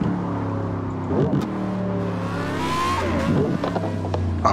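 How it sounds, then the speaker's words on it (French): A race car on a track revs continuously with a loud engine drone, and short bursts of exhaust crackles and pops break through the roar. "Et même la sonorité hein. La petite pétarade là."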